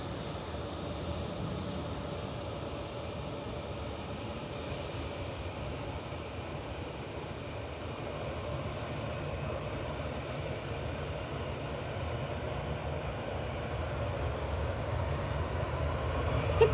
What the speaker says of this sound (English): Bringing in a Dash 10 Dreamliner today, A6 BME with flight 77 from Abu Dhabi.